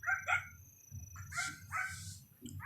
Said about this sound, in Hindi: गेट खुलने लगा तो अंदर से कुत्तों के भौंकने की आवाज आई।